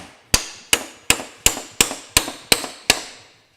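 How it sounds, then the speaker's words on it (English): A microphone used as a hammer drives nails, giving eight sharp, bright metallic strikes at an even pace, each ringing briefly before the next, loud and close with no speech. "So we have proved that you can actually hammer nails with a microphone"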